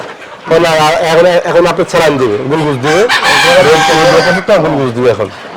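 Fayoumi chickens on a poultry farm cluck and a rooster crows loudly nearby, the calls layered close together and continuing throughout.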